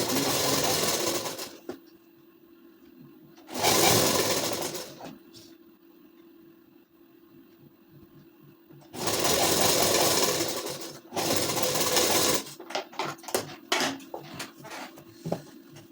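A sewing machine runs in several bursts while stitching a ladies suit, with long steady whirring runs and short pauses between them, close and loud, ending in a quick string of stop-start stitches.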